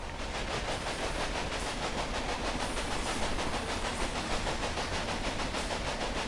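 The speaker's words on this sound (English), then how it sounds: "watch this train make its delivery" A train in the video game Railway Empire rolls along its rails, giving a dense steady rumble and rhythmic clatter, loud and continuous throughout with no voices.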